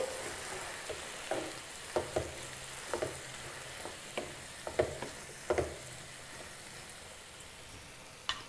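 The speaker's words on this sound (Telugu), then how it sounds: "మనం ఆనియన్స్ అలాగే క్యాలీఫ్లవర్ టమాటా వేసాం కదండి ఇవి ఆయిల్లో ఒక రెండు నిమిషాలు మగ్గనివ్వాలి ఒక రెండు నిమిషాలు అయింది కదండి ఇప్పుడు ఒకసారి బాగా కలిపేసి" Onions, cauliflower and tomato fry in oil while a spoon stirs them, with a low steady sizzle broken by a series of irregular scraping clinks of the stirring, close and quiet.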